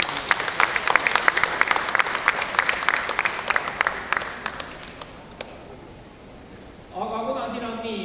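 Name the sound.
audience applause at an election rally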